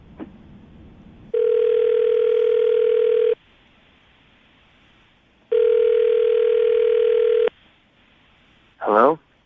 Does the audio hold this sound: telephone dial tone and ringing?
yes